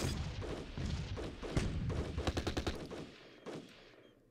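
Booming gunfire and artillery barrages from a World War II Ardennes battle video game, a dense run of loud thuds and rapid bursts that thins out toward the end.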